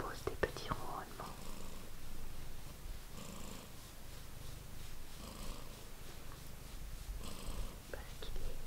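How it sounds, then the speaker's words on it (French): A cat purring contentedly while in a cuddly mood, a soft continuous rumble with rhythmic breathy pulses repeating every couple of seconds, close and steady throughout with faint whispering-like texture. "vous propose des petits ronronnements"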